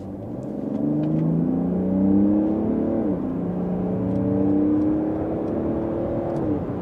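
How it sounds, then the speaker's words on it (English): A Mercedes GLE SUV in sport mode accelerates hard from about 50 km/h, its engine drone climbing in pitch through successive gear changes inside the cabin, steady and fairly loud without talking. "let's put here to the sport mode, and let's also accelerate here from 50 kilometers an hour"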